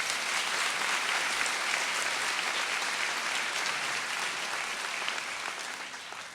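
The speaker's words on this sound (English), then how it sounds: "Another round of applause for them, please." An audience at a high school senior assembly gives a steady, full round of applause for three students of the Class of 2014, dense clapping continuing throughout and tapering slightly at the end.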